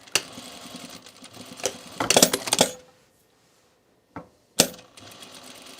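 Cover stitch sewing machine running over a dress hem in short bursts, a quick mechanical clatter that starts and stops, with handling clicks and a brief silent pause between runs.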